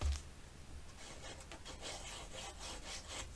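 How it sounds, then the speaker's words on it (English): Scored paper for a mini album is folded and then burnished, giving soft repeated rubbing and scraping strokes at a faint, close level, with no talking. "Fold, miter, and burnish."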